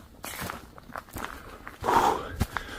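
Footsteps crunch outdoors at a campsite, a handful of irregular close steps on the ground, growing louder and heavier toward the end.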